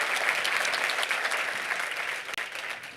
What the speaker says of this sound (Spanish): Let's give him another round of applause for putting this.